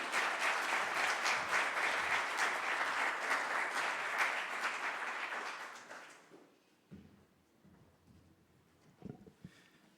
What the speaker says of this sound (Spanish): Con un fuerte aplauso entonces para recibirlo.